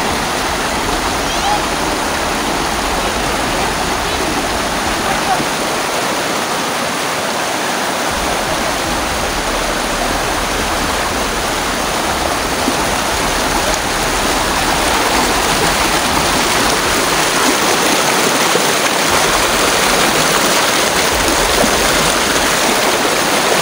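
Strong rushing river water, fast and powerful enough to make crossing hard, roars loudly and steadily right at the microphone with no break for the whole stretch.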